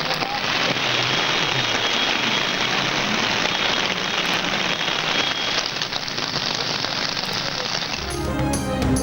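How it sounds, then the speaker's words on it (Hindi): Heavy torrential rain pours down in Malakand, making a dense, loud, continuous hiss of water on surfaces with no let-up, and the texture shifts briefly near the end. "मालाखंड शहर और गिरदोनवा में मुसलाधार बारिश।"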